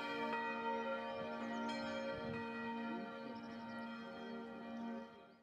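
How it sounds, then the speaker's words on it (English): Church bells ringing in France, a sustained, resonant peal with long humming overtones, steady and fairly distant, fading slightly toward the end with no voices. "the French love their church bells"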